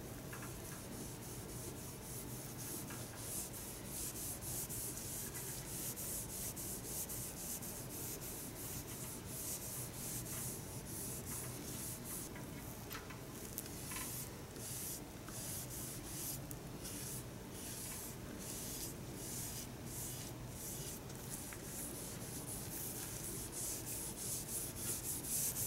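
A cloth rubs a third coat of Tru Oil into a stripped, refinished gun stock, making a continuous close-up scrubbing and swishing sound that keeps an even rhythm throughout with no talking.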